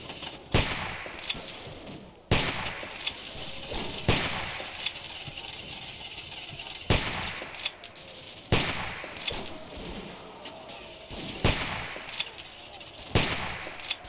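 Gunfire in The Walking Dead game, with sharp loud shots and short bursts repeating every second or two over a constant background rumble.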